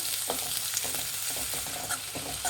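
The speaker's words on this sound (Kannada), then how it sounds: "ಒಂದೆರಡು ಈರುಳ್ಳಿ ಸಣ್ಣದಾಗ ಹಚ್ಚಿರೋ ಅಂಥದ್ದು ಇದು ಫ್ರೈ ಮಾಡಿ" Finely chopped onions frying in hot oil with curry leaves, giving a constant near sizzle with soft stirring scrapes scattered through it and no speech.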